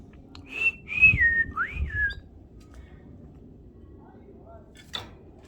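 A male budgie whistles in a short run of rising and falling chirpy notes for about two seconds, fairly close, then goes quiet apart from a faint later chirp.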